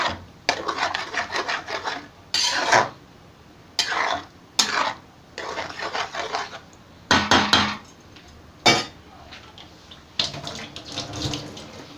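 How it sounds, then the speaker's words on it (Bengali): Spice paste stir-fried in a pan, with bursts of rough scraping and rubbing from a spatula in repeated strokes separated by brief pauses, close and fairly loud. "মশলাটাকে ভালো করে একটু কষিয়ে নেব।"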